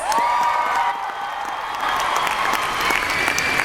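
A large convention audience at the Anime Expo 2015 Sailor Moon panel applauds the Sailor Guardians, with steady, close clapping over a sustained musical tone throughout.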